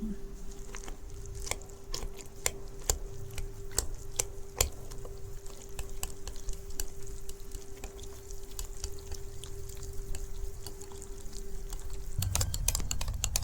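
Yogurt whisked with turmeric and chili powder, a quick run of sharp regular tapping strokes against a bowl, then a pause and a louder shuffle at the end, close and with no voices.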